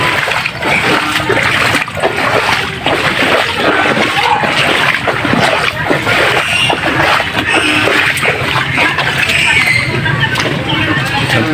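Floodwater after non-stop rain in Malalag, inside a neighbor's living room, splashes and sloshes steadily and loudly throughout, with voices talking in the background.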